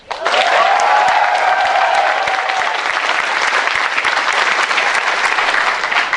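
A convention panel audience breaks into sustained, dense applause that swells in quickly and stays loud and even throughout, mixed with scattered cheers.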